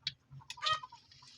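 A few short, agitated chicken clucks and squawks, close by, in quick bursts with brief gaps between them, in a kitchen during frying.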